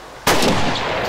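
A single loud gunshot goes off in a video game, with a sudden sharp crack followed by a sustained booming roar that fills the rest of the moment.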